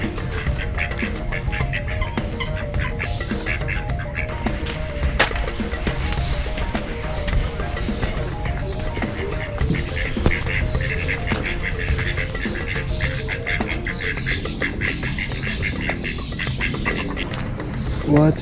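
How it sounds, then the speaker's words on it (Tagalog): A duck quacks amid a busy outdoor scene at a castle in Milan, its calls mixed into constant crowd noise and people talking nearby. "May duck."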